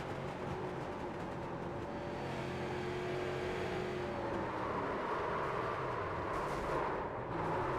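Race car engines roar continuously in a sim racing game during an IROC series round at Phoenix, heard from the cockpit view: a loud, steady drone with shifting pitch and no pauses.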